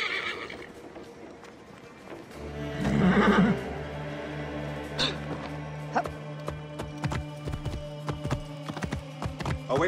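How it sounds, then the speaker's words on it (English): A horse in the game Assassin's Creed Origins gives a loud whinny, then its hooves clip-clop steadily on the ground. The hoofbeats are close and continue for several seconds. "I should find a horse."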